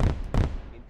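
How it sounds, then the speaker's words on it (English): Fireworks exploding outside, two muffled booms in quick succession with a fading rumble, heard from indoors during a phone conversation. "Oh, of course, there's goddamn fireworks."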